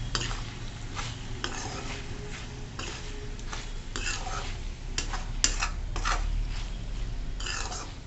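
Spoon scraping and stirring coarse ground peanut powder into wild kartoli vegetable in a pan, a steady series of soft scrapes and clinks with a faint sizzle underneath, close by and moderately loud.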